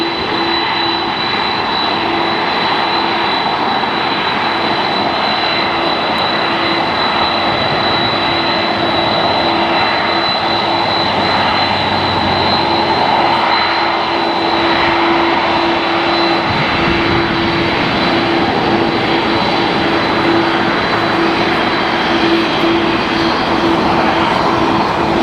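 Steady, loud roar of airplane engines at LAX airport in Los Angeles, a broad continuous drone with a sustained hum that holds for the whole stretch, no voices over it.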